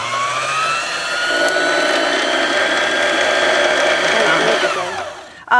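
A Bernette b33 sewing machine runs with its needle moving up and down, a loud, steady whirring motor note that winds down near the end, followed by a brief clunk.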